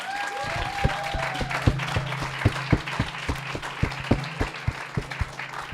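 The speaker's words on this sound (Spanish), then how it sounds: "yo pido un aplauso enorme para esta." A small audience at a report launch event in Colombia claps, a few loud, distinct, evenly paced claps standing out near the microphone over a thinner spread of applause, with a voice briefly at the start.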